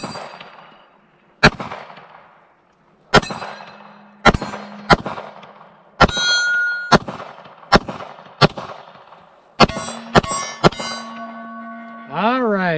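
A Glock 19 Gen 5 pistol fitted with a Faxon threaded barrel fires at steel plates, each loud, sharp shot followed by a ringing metallic clang; the shots come singly and spaced apart, then quicken into a rapid string near the end.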